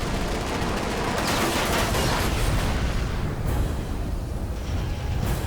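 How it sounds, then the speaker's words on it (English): Continuous loud rapid gunfire from a Mirage fighter jet's cannon during an aerial dogfight with Su-7 jets, a dense rattling barrage of cannon-like bursts that fills the whole stretch without pause. "then another Sukhoi falls to Mirage cannon fire."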